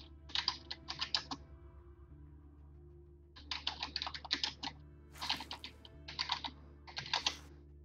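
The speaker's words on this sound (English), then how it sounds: "So I just typed in Moana Surfrider, the one we visited earlier" Bursts of typing on a computer keyboard, quick clustered clicks in short runs separated by pauses, close and fairly quiet over faint background music.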